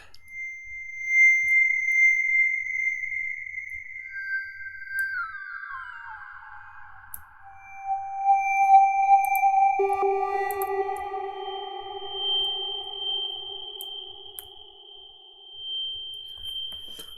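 Bright synthetic bubbling tones from the Vital synth, pitched up two octaves, glide downward in pitch in steps, then settle into sustained high blips, clean and electronic, with no talking.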